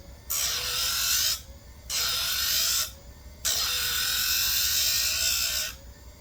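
A Husqvarna 357XP chainsaw chain is filed by hand, three separate metallic rasping strokes, the last one longest, each followed by a short quiet pause, with no voices.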